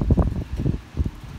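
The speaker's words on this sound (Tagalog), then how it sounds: "maramdaman mo talaga yung bagsik ng hangin ng bagyo." Strong typhoon wind buffets a high-rise building in Hong Kong, arriving in rough, low, rumbling gusts that swell and fade several times in quick succession, with no voices.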